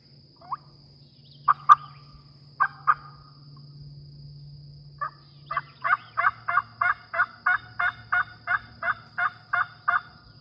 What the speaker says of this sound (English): there's a bird up here hammering